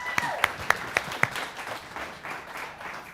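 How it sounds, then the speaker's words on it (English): Audience at the Synapse Innovation Awards applauding company CEO Brian Kornfeld, several loud individual claps up front blending into a softer spread of clapping that fades out. "Let's give him a round of applause."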